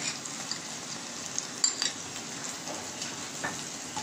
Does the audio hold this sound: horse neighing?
no